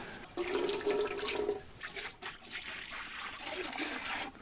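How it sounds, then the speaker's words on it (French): Running tap water rinsing acid-cleaned mechanical parts in a sink, a continuous close splashing stream with trickling shifts as the parts are moved under it. "vu que la solution était acide, je vais bien rincer"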